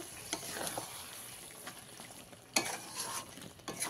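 Dhaba-style chicken masala being mixed with chopped coriander and kasuri methi: faint, close stirring scrapes and light sizzle, with a couple of louder scraping strokes.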